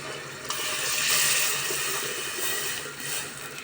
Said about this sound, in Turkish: Sosum yeterince kaynadı. Suyunu veriyorum.